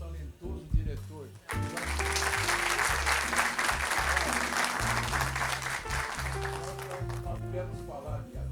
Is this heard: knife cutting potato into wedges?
no